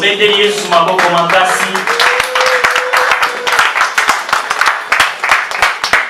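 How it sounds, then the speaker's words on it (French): Church congregation at a wedding breaks into a dense round of hand clapping for Jesus Christ, steady and close, after a couple of seconds of voices at the start. "Nous acclamons pour Jésus-Christ"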